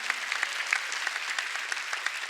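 A church congregation claps together during a Sunday sermon, an even crackle of many hands at moderate volume, continuous and alone without speech.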